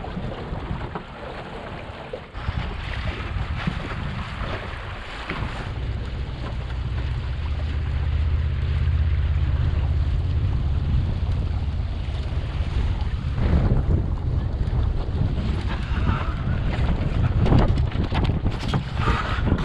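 A sailboat on a big lake in a breeze, with steady wind buffeting and rushing water along the hull that grows louder after the opening seconds, and no one speaking.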